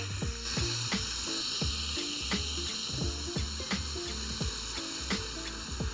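A smash burger patty sizzles steadily on a hot cooking surface as it is pressed flat, with a continuous close frying hiss broken by regular scraping clicks.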